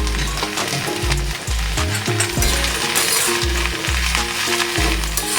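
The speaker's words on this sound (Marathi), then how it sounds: "भाजी घालून छान असं हलवून घ्यायचंय" Drumstick leaf bhaji stirred in a hot pan over medium gas, a continuous loud sizzle with stirring scrapes beneath steady melodic background music.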